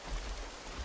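Rain in the video game The Isle, a steady dense hiss of falling rain throughout a very brief moment, with no talk.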